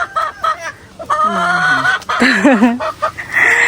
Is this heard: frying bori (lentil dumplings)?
no